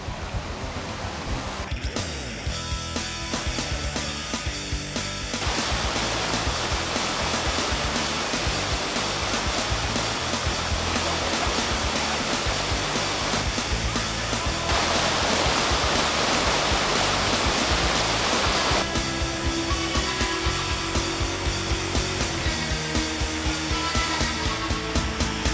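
The high, rain-swollen rapids of the Kawishiwi River roar in a dense, continuous rush of churning whitewater, loud and close throughout with no pauses.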